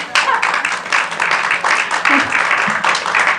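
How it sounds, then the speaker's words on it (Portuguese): An audience at a lecture applauds a speaker's welcome with a full, continuous wash of many clapping hands that stays loud and even for the whole span, with no pause. "E todos podem aplaudir."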